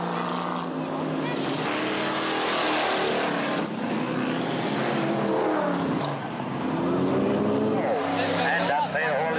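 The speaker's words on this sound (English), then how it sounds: "come out to the track to exchange the thrill of the colored stone for the thrill of high-speed racing." Race cars roar continuously past on a dirt track at an outback speedway near an opal-mining town, their engines droning and rising and falling in pitch, with a commentator talking over the racing.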